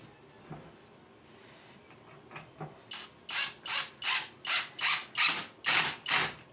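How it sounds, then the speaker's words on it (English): A clamp is ratcheted tight on a freshly glued wooden jointer push block, making about ten evenly spaced, loud clicking-rasping strokes close by after a few quieter fumbling taps. "Let's clamp that up and then put the screw in it."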